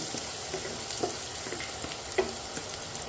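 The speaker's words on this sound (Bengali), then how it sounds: "রসুন কুচিটা একটু নেড়ে নেব।" Chopped garlic frying in butter in a pan, stirred: a soft, even sizzle with occasional light scrapes and taps of the spoon, close and fairly quiet.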